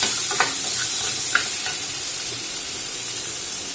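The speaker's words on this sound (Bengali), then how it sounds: "হলুদ দেবো, লঙ্কার নুন, ভালো করে নেড়ে নিচ্ছি" A chutney seasoned with turmeric and salt sizzles steadily in a pan while a spoon stirs it, with a few faint scraping taps over the continuous hiss of frying.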